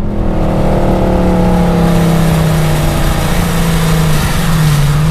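Supercharged Hennessey HPE850 Dodge Challenger Hellcat revs hard under full throttle, its loud engine note climbing steadily through the gears with a quick no-lift shift, a continuous close roar without any talk.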